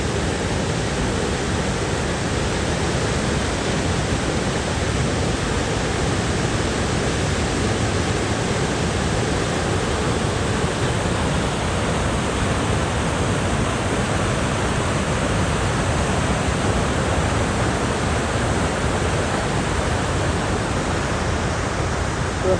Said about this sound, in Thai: เดินทางมาฮอดน้ำตกตาดแห่งนี้